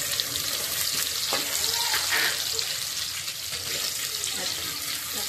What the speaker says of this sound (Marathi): आता मी कांदा लाल करते